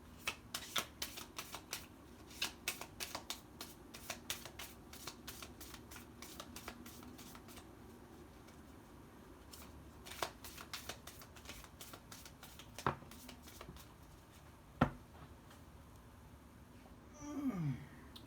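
A deck of tarot cards is shuffled close by in quick, repeated riffles and flicks, with pauses between bursts and a louder rustle near the end. The room is quiet and nobody speaks.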